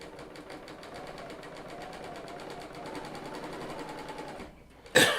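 Bernina L890 serger stitching steadily at a moderate, even pace, a continuous mechanical whir with fine rapid ticking, ending with a brief louder clatter as it stops.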